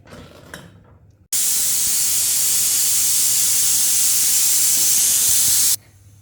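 A loud, steady hiss of steam blasts from a pressure cooker of chicken biryani on medium flame for several seconds, then cuts off abruptly, with quieter kitchen noise before and after.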